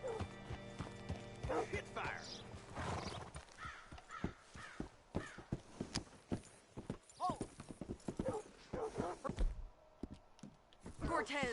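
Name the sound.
horse hooves clip-clopping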